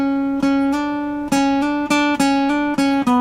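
Acoustic guitar chords in standard tuning without barre shapes are strummed to pick out the melody of a song, with steady sustained chords and a fresh attack roughly every half second, close and clear without any voice.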